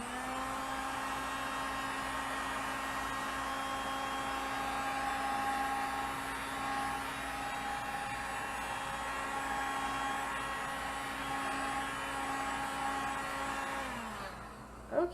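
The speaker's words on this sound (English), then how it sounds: "when you're working with the heat gun, you want to be very careful not to melt through the beeswax sheet" A heat gun blows steadily on a beeswax sheet, a constant whirring fan hum with a tonal motor whine that holds evenly and then winds down as it switches off near the end.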